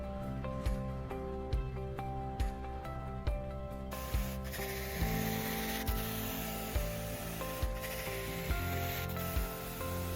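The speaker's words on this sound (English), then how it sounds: "You will spray it and then agitate it into the fibers to help release the stain." Stain treatment sprayed onto carpet and worked into the fibres, heard as a steady run of rhythmic scrubbing strokes close by, with a hissing spray wash joining partway through.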